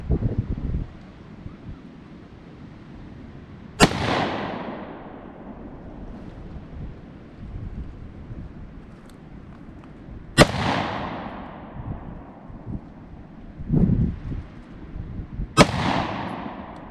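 Three sharp M193 5.56 rifle shots fired outdoors at a 50-yard range, each a loud crack with a decaying tail, spaced several seconds apart over steady wind noise.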